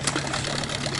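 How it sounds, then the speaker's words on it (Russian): Mikatsu 9.8 outboard boat motor running steadily at medium revs during break-in on a river, a close, continuous buzzing drone with a steady hum and no pauses. "Вот, по пути на средних оборотах я буду обкатывать мотор."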